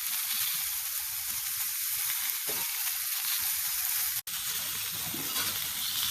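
Green chile peppers and lots of garlic sizzle in a very hot pan, a steady, dense crackling hiss that fills the clip with only a brief dropout near the end, and no one talks.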